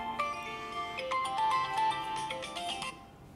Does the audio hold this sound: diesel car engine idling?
no